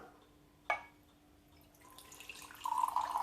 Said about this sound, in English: Just a normal warm water from the tap.